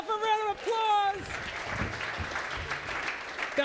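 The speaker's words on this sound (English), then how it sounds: "give yourself a round of applause" An audience at a keynote talk breaks into applause right after a voice speaks. The clapping is steady, broad and sustained, filling the room at moderate loudness.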